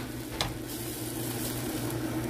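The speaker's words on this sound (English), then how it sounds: "So we're just gonna let that cook in the butter sauce for a little bit." Steak sizzling in a butter sauce seasoned with black pepper, a steady close crackling hiss with a brief stirring scrape early on.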